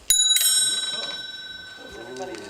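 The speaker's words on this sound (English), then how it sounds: "as the doorbell rang" A bright bell rings twice in quick succession, its metallic tone lingering and fading as a voice speaks softly underneath.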